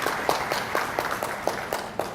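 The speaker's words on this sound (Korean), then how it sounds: "여러분들 박수 한번 부탁드립니다." Conference audience applauding at the 2021 Seoul International Smart Factory Conference & Expo: a sparse, fairly even patter of claps over a steady room hiss for about two seconds.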